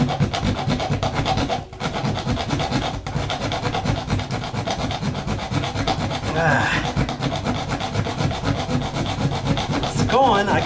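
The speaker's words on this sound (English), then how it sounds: "I'm sawing the nail off." A hand saw rasps in quick, steady back-and-forth strokes, sawing through a nail holding an outlet junction box, a gritty scraping rhythm that continues throughout with a couple of brief pauses.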